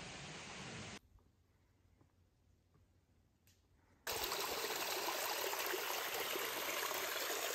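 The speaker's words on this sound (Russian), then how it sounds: "Ручьи текут прям по тропе." Mountain streams running across a steep hiking trail in the White Mountains, a steady rushing flow of water that drops away to near quiet for a few seconds, then returns loud and close, with no talking.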